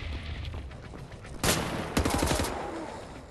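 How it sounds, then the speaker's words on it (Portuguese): Enemy gunfire in the PS4 game Wolfenstein during a prison escape: sharp bursts of rapid shots erupt loud and close, a heavy volley followed by a chattering stream of automatic fire that keeps going without pause. "Ele não para de atirar, velho"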